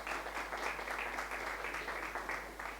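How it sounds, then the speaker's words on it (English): Steady applause from an audience at a live broadcast of the Best Sommelier in South Africa 2021 competition, welcoming a famed chef: dense, even clapping with no pauses, alone at a steady level. "Please give him a round of applause."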